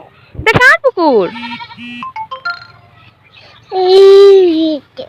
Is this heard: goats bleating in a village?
yes